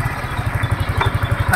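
A motorcycle engine idles close by with a loud, steady, throbbing pulse that repeats evenly throughout, and no one talks over it.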